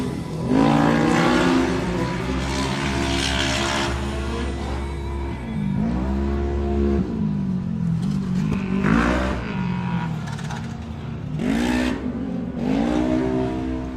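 Race cars at a track circuit roaring past one after another, each pass a loud rising and falling engine howl with revving surges, several cars sweeping by in turn, close and loud with no talk.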